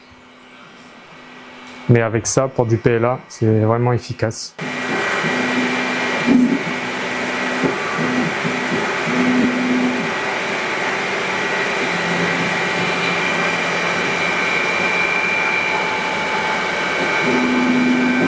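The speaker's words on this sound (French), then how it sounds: "Les deux gros ventilateurs, c'est eux qui font du bruit." The cooling fans of an Elegoo Neptune 4 Max 3D printer whir steadily and loudly after someone speaks briefly, with faint intermittent tones over the continuous drone.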